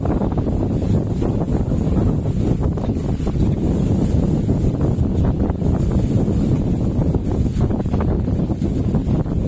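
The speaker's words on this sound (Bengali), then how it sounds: "সুন্দর বাতাস, গাছগুলি কেভাবে লড়তেছে, সাউন্ড বাতাসের সাউন্ড" Wind gusts through trees at an outdoor spot in Zainul Abedin park, a steady, broad, loud rushing roar with buffeting against the microphone, continuous throughout with no voices.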